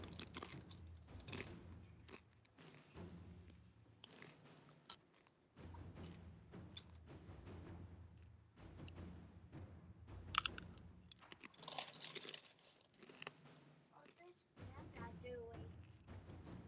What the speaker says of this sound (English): that last munch was real loud